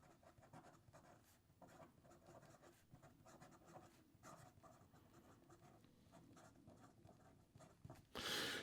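A fountain pen with an 18 karat gold nib writing on paper, a soft close scratching that comes and goes in short strokes, faint and alone, ending in a brief louder rustle.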